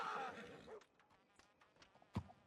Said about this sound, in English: I heard a horse leave